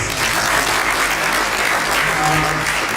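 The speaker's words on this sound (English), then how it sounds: "So I think he also deserved a round of applause." An audience at an interfaith gathering on military chaplaincy gives a round of applause, steady dense clapping filling the room for three seconds with no talk over it.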